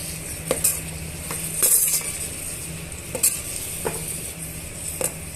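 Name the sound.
ground onion-tomato paste added to frying masala for mutton biryani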